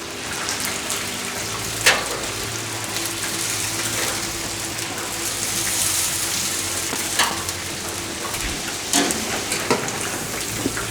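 Fish and chips deep-frying in a pot of hot oil at a campsite cove, a steady dense sizzle and bubbling throughout with a few sharper crackles and pops, fairly close and with no talking.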